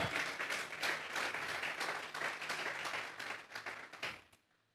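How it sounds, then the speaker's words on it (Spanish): A church congregation claps loudly and continuously during a sermon, a dense wash of many hands that thins out and fades to quiet at the end. "Dele fuerte esas palmas al Dios de la gloria"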